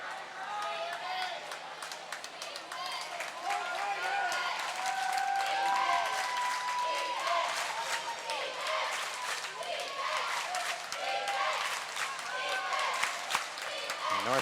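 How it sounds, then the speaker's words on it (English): A home crowd cheering and clapping at a North Penn boys high school water polo game against North Allegheny, a sustained roar echoing around an indoor pool, with a commentator talking over it throughout. "North Penn crowd is electrified right now"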